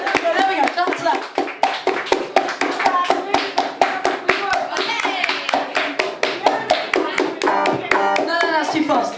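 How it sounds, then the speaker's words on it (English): A comedy-show audience claps in steady rhythm, sharp regular hand claps filling the room while someone shouts and talks over the beat throughout. "Get everyone to clap, come on."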